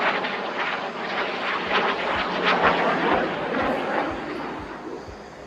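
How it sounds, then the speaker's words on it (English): A military jet accelerating and doing snap rolls at the Aero India 2025 air show at Yelahanka Air Force Station: a loud, sustained engine roar that swells and holds as the jet passes close, with faint voices under it. "the aircraft accelerates to a speed of 400 knots to perform few snap rolls right in front of you"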